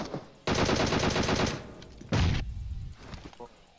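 Rapid gunfire from PUBG Mobile rattles in a long burst, then a second short burst follows, with quieter talk and thumps between.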